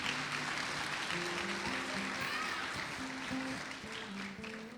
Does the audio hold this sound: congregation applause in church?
yes